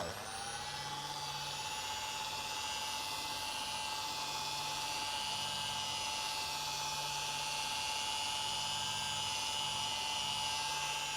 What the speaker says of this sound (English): Just taking our time to pass over the area nice, make sure we polish everything thoroughly.